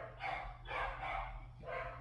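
Dogs bark indoors at a home, three muffled bursts of barking a little distant from the microphone, over a low steady background hum.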